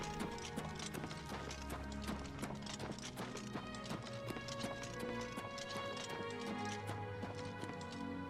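A horse gallops in Oblivion Remastered on Xbox Series X, its hooves striking in a rapid, rhythmic clip-clop over a layered bed of game music and ambience, steady and quite faint throughout.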